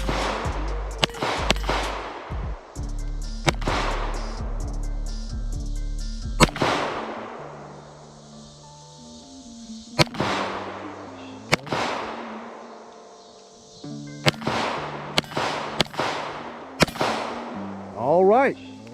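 Sig MPX firearm shots crack out loud and close, single shots and short groups with echoing tails, as people talk quietly between them.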